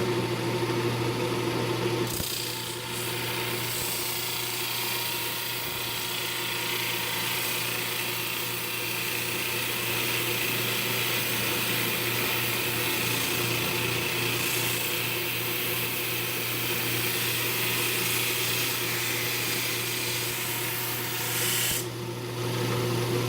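Steel sanded with 120 grit sandpaper on a Flatmaster, a steady continuous rasping scrape with a constant mechanical hum beneath, running without pause for about twenty seconds before stopping.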